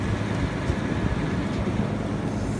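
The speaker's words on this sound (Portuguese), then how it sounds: "Olha o vento." Cold wind blows outdoors at a house construction site in the United States, a continuous roaring rush of gusty noise buffeting the microphone, with no talking.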